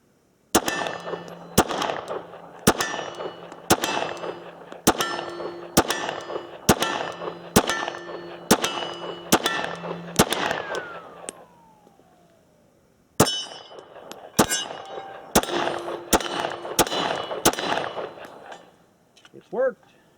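Glock 19X pistol test-fired with a Glock 17 Gen 4 magazine outdoors, with evenly spaced sharp shots, about ten in a steady string, a pause, then several more, each with ringing metallic clang.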